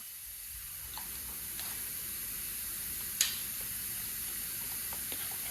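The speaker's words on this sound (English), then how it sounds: "Let's go get our primer in a cup and start spraying." A spray gun hisses steadily as it sprays thinned primer from its cup onto the doors of a 1979 Volare wagon, a continuous airy rush broken only by a few faint clicks.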